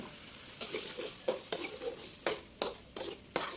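Shrimp with oyster sauce sizzling in a pan over medium heat, with steady frying hiss broken by repeated sharp scraping stirs of a utensil against the pan, close and clear with no talking.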